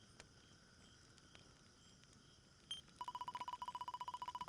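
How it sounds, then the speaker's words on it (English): Faint crickets in a quiet, music-free Dragon Quest XI area: a soft scattered chirp at first, then from about three seconds a rapid pulsing trill repeating evenly in a long run, delicate and thin against near silence. "You can just hear the crickets and stuff."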